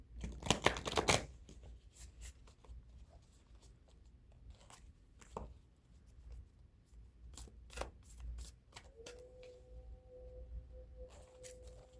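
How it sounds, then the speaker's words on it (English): Black Moon Astrology oracle cards being shuffled for a card pull, a brief burst of riffling at the start followed by scattered soft taps and card handling, faint and close in a quiet room. "We'll do a card pull from the Black Moon Astrology."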